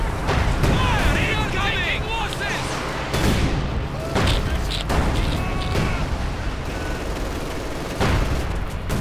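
An SU-85 tank destroyer's 85mm gun fires in Company of Heroes 2, several heavy booming shots and bursts of battle fire over rumbling combat noise, with someone commentating throughout.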